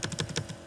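Quick keystrokes on a computer keyboard while searching teacher records in a school registration program, about six crisp, evenly spaced clicks in under a second, close and clear with no voices.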